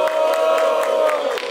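A rap battle audience cheers and yells for MC Caê, a loud, close roar of many voices shouting together with a sustained, pulsing intensity.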